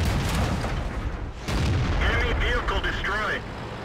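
Tank cannon shots in a tank video game, a couple of loud booming blasts amid continuous battle noise, with a voice talking over part of it.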